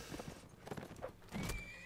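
A horse neighs in the Mount & Blade video game amid battle, with a whinny and hoof clip-clop rising through the short stretch, fairly quiet in the mix.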